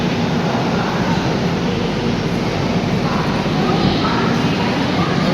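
Busy platform ambience at Cuttack Junction railway station: a steady, dense wash of crowd murmur and distant rumble with no standout events, loud and continuous throughout.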